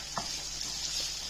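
Small skin-on potatoes fry in hot oil with a bright, steady sizzle up close, and a brief scrape of stirring comes near the start of the short burst.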